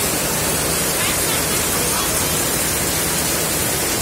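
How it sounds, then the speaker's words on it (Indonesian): Heavy rain pours down steadily outside a bus travelling toward Jogja, a dense, even hiss that fills the whole stretch without pause, close and loud. "Wah, hujannya deras sekali."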